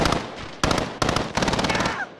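Rapid automatic gunfire in Call of Duty: Modern Warfare, loud dense bursts of shots in quick succession broken by short gaps.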